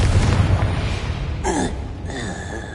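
A Confringo blasting spell cast in Hogwarts Legacy lands as a deep, heavy boom followed by a crackling burst and a second quick pop, loud and close.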